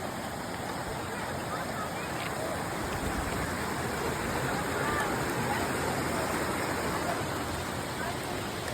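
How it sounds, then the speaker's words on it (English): A brook flows along a hiking trail in the Adirondack woods, a steady close rush of running water over rocks that stays even and unbroken throughout. "crossing a brook."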